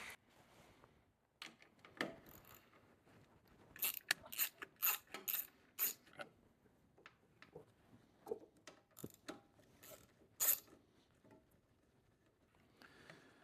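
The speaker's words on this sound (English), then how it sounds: "So I need to get the wrench to take these two bolts off." Metal clicks and ratcheting of a wrench loosening two bolts on a Harley motorcycle, close and fairly loud, in irregular bursts of sharp ticks with short pauses between turns.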